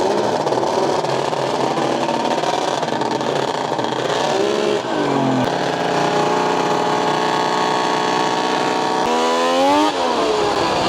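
A 160HP race tractor engine revving hard, loud continuous roar with rising and falling pitch sweeps as the throttle is blipped, a sharp drop near the middle before climbing again.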